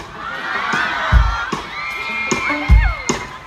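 A concert crowd at a The Voice Season 3 performance shouts and cheers loudly, with high excited voices and whoops rising and falling in bursts.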